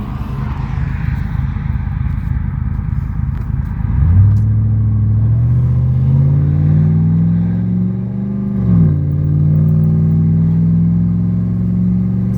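A 2005 Chevy Silverado pickup with 4.10 rear gears accelerates gently from a stop, its engine drone climbing steadily in pitch, dipping briefly at a shift, then rising again, loud and close with no talk.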